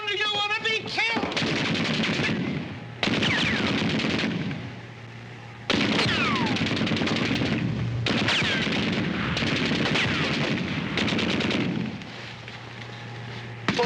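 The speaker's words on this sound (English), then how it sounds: "Machine guns!" Machine gun fire in a war film scene, rapid continuous bursts of shots in several long stretches with brief gaps, loud and close, with shouting voices mixed in.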